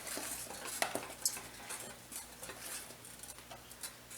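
Steady stirring of thickening homemade caramel pie filling in a pot, a continuous soft scraping and patter of the spoon against the pan with a few louder clinks, close and alone without talk.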